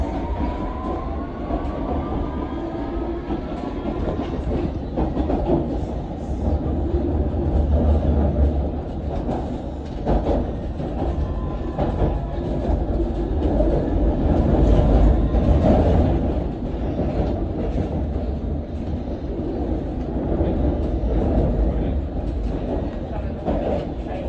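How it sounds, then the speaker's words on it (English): A London Underground Circle Line train runs loudly between stations, its wheels rumbling and clacking against the rails while squeals and metallic rattles rise and fall over a constant roar, with a faint announcement voice at times. "a Circle Line train via Tower Hill and Liverpool Street"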